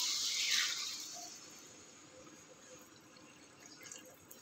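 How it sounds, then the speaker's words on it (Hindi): Thin lassi poured into a wok for kadhi pakora, a bright splashing pour that swells early and then settles into a softer, steady trickle, close and alone. "अब हम इसमें डालेंगे लस्सी।"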